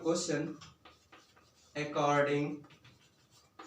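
A pen scratches out an equation by hand on paper, with soft rubbing strokes between and beneath a person speaking close by.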